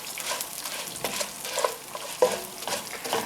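Rice pilaf with almonds fries in a pan, giving a steady soft sizzle while a spatula scrapes and stirs it in repeated close strokes.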